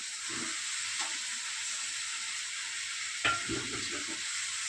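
Eggplant and fish go into oil with spice paste and peas, a soft steady sizzle under gentle stirring, with a sharper frying burst as more is tipped in toward the end.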